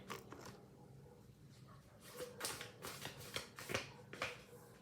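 Tarot cards being shuffled, a quiet run of rapid riffling flicks and soft slaps that grows busier toward the end.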